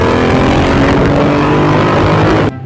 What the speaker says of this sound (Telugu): ఇదే నా డ్రీమ్ బైక్ అన్నమాట, రాయల్ ఎన్ఫీల్డ్ ఇంటర్సెప్టార్. దీని సౌండ్ బీటింగ్ మాత్రం వేరే లెవెల్.